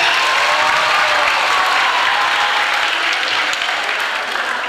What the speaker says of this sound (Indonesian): tepuk tangan untuk mereka bertiga